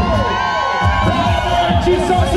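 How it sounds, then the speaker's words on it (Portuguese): Rodeo crowd at the São Sebastião 2019 festival cheering and shouting continuously, a dense roar of many voices with whoops and a sustained high call, loud and close throughout. "cada grito da galera!"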